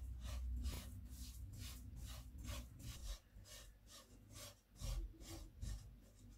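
Desiccated coconut stirred and roasted in melted ghee on a low flame for coconut ladoo, giving a steady rhythmic scraping and rasping as a spoon works through the dry shreds in the pan, close and fairly quiet.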